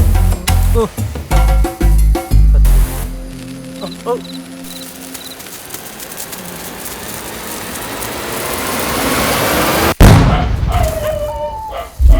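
After people talk briefly, a hissing noise swells for several seconds before a single sharp, loud firecracker bang, followed by a brief voice.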